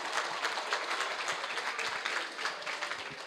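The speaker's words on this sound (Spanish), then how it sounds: "aplauso para él" Audience applauding Dr Gerardo Gomez Serna after a lecture, a dense, even patter of many hands clapping at moderate distance, sustained without a break.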